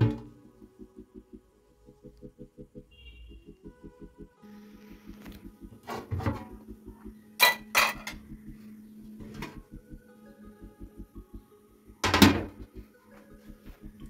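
A serving spoon clinks and scrapes against a dish while sweet fermented Chittagong madhubhat rice is dished out, a few sharp knocks standing out over a steady rhythmic background pulse.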